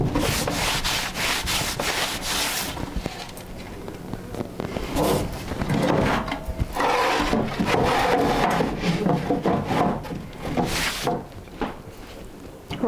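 Sandpaper is rubbed by hand over a wooden furniture surface in steady back-and-forth strokes, a continuous close scratchy rasp with brief pauses.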